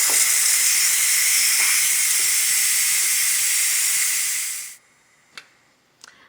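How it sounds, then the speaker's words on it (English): A Ninja Foodi pressure cooker vents steam after cooking mac and cheese: a loud, close, continuous hiss that fades out after about five seconds, followed by a couple of small clicks. "then I will release the remaining pressure"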